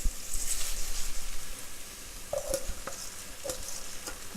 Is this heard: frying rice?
yes